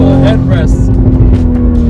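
A 2020 Toyota GR Supra sports car accelerates in paddle-shifted gears, its engine a steady loud drone heard from inside the cabin, with someone talking over it throughout.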